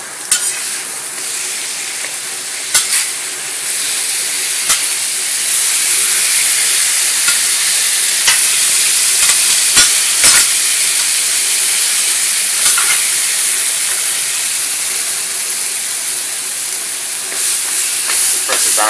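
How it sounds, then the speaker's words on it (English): Guajillo chili sauce fries in a thin layer of vegetable and corn oil, making a loud, steady, close sizzle with a bright hiss. Occasional scrapes of stirring break through the continuous frying. "make sure that the sauce is being fried"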